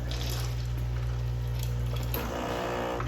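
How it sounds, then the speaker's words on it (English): A Delonghi La Specialista espresso machine in descale mode pumps water with a steady low buzzing hum and trickling flow, close and even, shifting slightly near the end. "it's going to cycle through the coffee area, through the hot water, and through the steam part in different intervals to get that descaler working through the whole machine"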